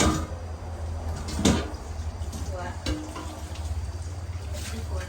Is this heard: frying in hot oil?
yes